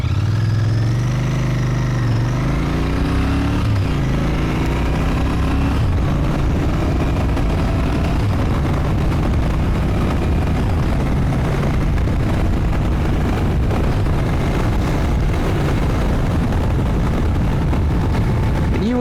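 A Royal Enfield Bear motorcycle accelerates through its gears toward 4,000 rpm, with a steady, loud engine drone heavily blended with wind rush on the road.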